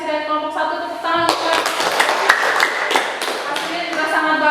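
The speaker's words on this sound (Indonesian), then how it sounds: "tepuk tangan" Applause from a classroom of students after a group presentation, starting a beat in as a burst of scattered hand claps that carries on steadily, with a voice speaking at the very start.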